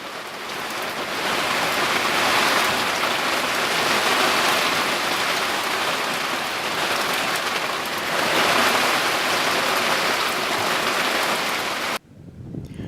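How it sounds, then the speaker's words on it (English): Heavy rain pours down steadily at night on a sailboat anchored in a sound on New Zealand's South Island west coast, a dense continuous hiss of drops that cuts off abruptly near the end. "Then it rained in a pitch black night downpour that was just out of this world"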